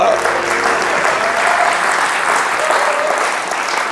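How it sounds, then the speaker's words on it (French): Sustained audience applause from a comedy show crowd, dense steady clapping at close range filling the whole stretch without letup. "Ah, les gens applaudissaient toujours."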